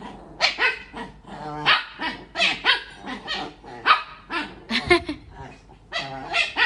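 Small dogs fighting indoors, rapid sharp barks, yips and snarling growls overlapping in quick bursts, close and loud with no talking.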